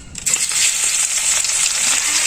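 Tilapia fish heads hit hot mustard oil in a wok and burst into a loud, dense, continuous sizzle and crackle, close up and unbroken.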